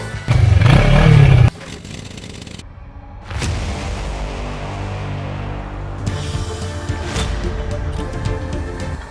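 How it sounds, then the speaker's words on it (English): A 1954 NSU 250 racing motorcycle: a loud, close engine burst at the start cuts off abruptly, then quieter clatter and scraping, with a rougher mechanical running sound carrying on to the end. "it is NSU 250, a racing bike from 1954."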